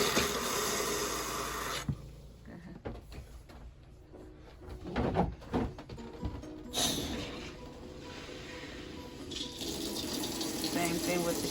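An RV faucet runs red antifreeze as the pump pulls it through, a steady hissing stream that sputters and breaks up midway, with clunks and handling noises before the flow steadies again.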